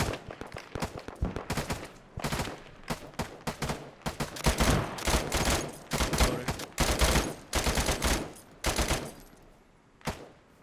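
Sustained gunfire from a military squad battle in the video game Arma 3, with dense bursts of automatic fire and loud cracks running continuously, crowding one another without a break.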